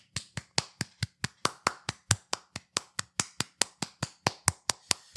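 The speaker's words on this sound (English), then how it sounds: "Everyone clap it up." Crisp, sharp hand claps repeat in a steady, even rhythm, around twenty-five distinct slaps over five seconds, close and isolated with no talking.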